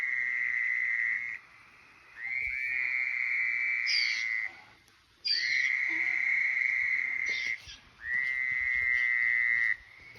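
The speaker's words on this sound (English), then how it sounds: "Oh, yep, they're toads." Toads call from a small pond on a misty summer night, several long sustained trills in overlapping bursts, fairly loud and close with quiet gaps between, and no voices.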